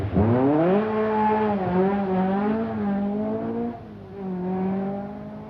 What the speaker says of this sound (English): Hard on the brakes comes Ingvar Carlsson in the Mazda RX-7